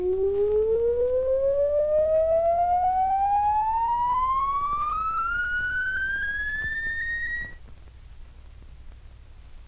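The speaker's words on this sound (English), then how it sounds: "This produces a signal in the loudspeaker that sounds like this," An audio oscillator's tone comes through a loudspeaker in 1951 circuit-testing gear, a clean steady whistle gliding smoothly upward in pitch for about seven seconds, then cutting off abruptly to faint hum.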